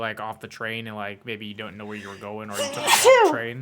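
A single sharp sneeze bursts out close by, right after a stretch of casual talk.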